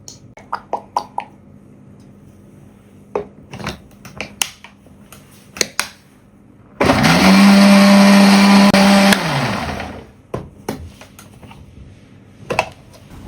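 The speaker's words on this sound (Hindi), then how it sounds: "ऑयल को हम वक्फे वक्फे से डालेंगे और साथ साथ ब्लेंड करते जाएंगे।" A blender runs for about two seconds, a loud steady whirring burst, as oil is added bit by bit to a homemade shawarma sauce, with clicks and kitchen handling noises before and after.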